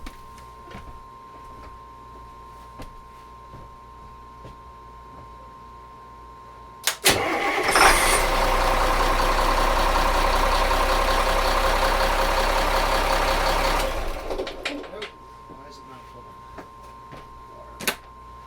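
A boat engine cranks and catches with a sharp burst, then runs at a loud steady idle for several seconds before shutting off, with quiet background before and after.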